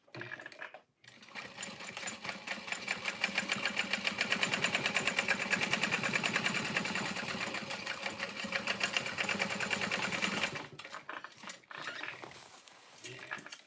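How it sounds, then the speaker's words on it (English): A sewing machine runs steadily for about ten seconds, topstitching along the side panel of a leather bag, a fast even mechanical chatter that starts, holds a constant speed, then stops with a few short clicks. "I'm gonna open that up and top stitch along the side panel"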